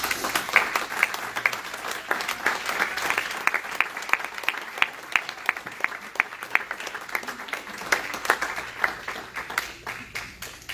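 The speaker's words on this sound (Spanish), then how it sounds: "den un fuerte aplauso" Sustained applause from a church congregation, many hands clapping in a dense, steady patter that swells and fades slightly, with faint voices mixed underneath.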